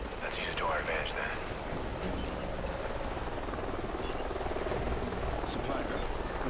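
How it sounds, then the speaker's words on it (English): A helicopter up ahead drones steadily from a distance in the video game Call of Duty Ghosts, a continuous whirring roar beneath wind and other game sounds, with voices partly audible over it. "Sounds like a chopper's up ahead of us."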